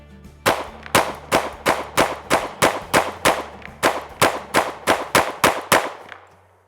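Springfield Hellcat Pro Comp compensated pistol fired through a full magazine, about seventeen sharp, loud shots in a steady rapid rhythm, each with a brief ringing tail, no voices.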